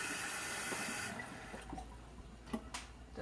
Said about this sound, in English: I'm going to add about a cup of water.